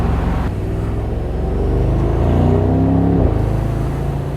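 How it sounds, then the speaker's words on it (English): A 2023 Mercedes-AMG SL63 V8 engine gives a steady, deep, close drone that swells slightly in pitch and loudness midway, with no talking. "Just listen to that V8 purr."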